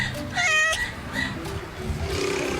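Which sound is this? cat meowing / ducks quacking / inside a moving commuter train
cat meowing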